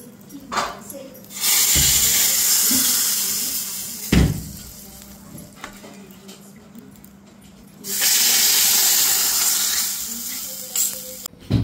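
A hot tempering of oil with asafoetida and turmeric is poured onto eggplant and hisses loudly in two long sizzling bursts, with clinks and scraping between them and someone talking.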